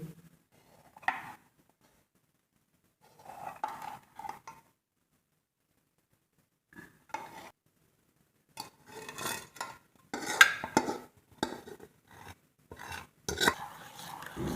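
A spoon stirs sugar syrup into shrikhand in a bowl, giving intermittent scrapes and clinks against the bowl. Short bursts come near and fairly quiet, separated by pauses and growing busier toward the end.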